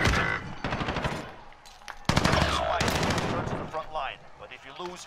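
Gunfire in Call of Duty Modern Warfare Warzone comes in loud, close bursts of rapid automatic shots, separated by short pauses, with a voice talking in between.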